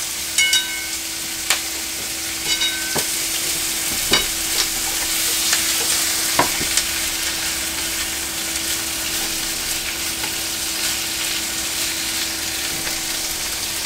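Pork stir-fried with pea shoots and komatsuna leaves in a hot pan, a steady loud sizzle with occasional sharp clicks and scrapes of stirring, no talking.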